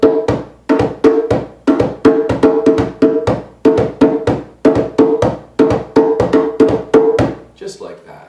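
Djembe played up to speed in a steady calypso dance rhythm, mixing deep bass strokes with sharp tone strokes in a repeating loud, close pattern that stops near the end.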